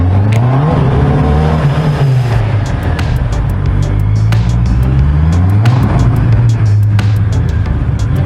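A Honda CB650R motorcycle engine revs hard in repeated rising and falling surges, its power cut stuttering in by the traction control with rapid sharp interruptions, loud and close.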